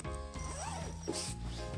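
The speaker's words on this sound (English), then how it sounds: "Let's see how much we can open this one. Tiny zipper." A small zipper on a sleeping bag is drawn open at close range, short rasping pulls coming in a couple of quick strokes amid quiet handling noise.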